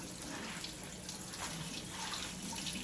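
Tap water runs steadily into a kitchen sink while spinach is washed, a continuous close broadband rush of flowing water with no talking.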